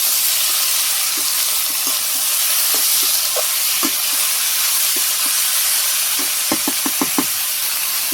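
Vegetables for chorchori sizzle in hot oil with cumin, with a steady frying hiss and scattered utensil knocks and scrapes that come in a quicker cluster toward the end as the pan is stirred.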